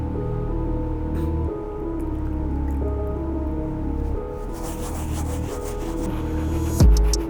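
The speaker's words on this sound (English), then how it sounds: "And now I'm gonna clean the uppers using the soft bristle brush." Soft bristle brush scrubbing wet, soapy canvas uppers of Nike Blazer sneakers, producing close, squishy wet rubbing and dripping strokes that come in uneven bursts, with a sharper knock near the end.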